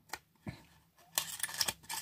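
Card deck packaging torn open by hand, several sharp crinkly rips and tearing bursts, close and fairly loud, with short pauses between pulls.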